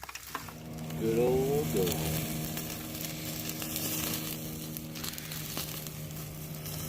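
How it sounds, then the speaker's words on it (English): Homemade sausage cooks over a campfire, giving a steady crackling sizzle with a low hum beneath it, close and continuous throughout, while someone briefly speaks near the start. "Cooking some homemade sausage here"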